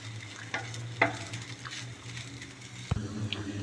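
Okra frying in a pan is stirred just after salt goes in, a steady low sizzle under a few scraping utensil knocks and one sharp clack near the end, with no talking.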